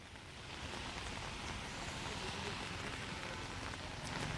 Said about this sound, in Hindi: जो खासतौर पर अगर जयपुर की बात करें तो तेज़ बारिश इस समय चल रही है।